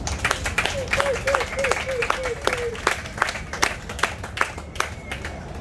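Sustained applause from an audience at a slam poetry event, a dense crowd of clapping hands going on steadily with a few brief voices and whistles mixed in.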